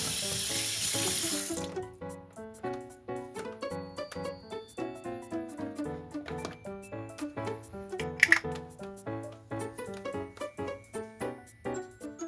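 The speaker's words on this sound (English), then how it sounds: "I'm just washing my hands so that they're free of conditioner when I go ahead and detangle her." Hands being rinsed to clear off hair conditioner during a doll restoration: a loud hiss of running tap water fills the first two seconds, then gives way to steady rhythmic music.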